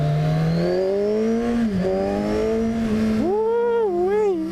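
A 2014 Kawasaki Z1000 motorcycle engine revs hard and accelerates, pitch climbing steadily, dipping briefly at a gear change, then surging and wavering through rapid throttle blips; loud, close and continuous with no talk.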